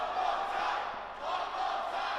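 A wrestling crowd at a Brady Phillips versus Dan Evans match roars and chants in a dense, sustained wash of voices that swells, dips briefly, then surges again.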